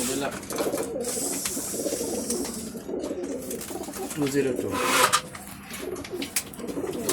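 Racing pigeons coo softly in the background while people talk over them, with a busy, cluttered backdrop of birds and voices throughout.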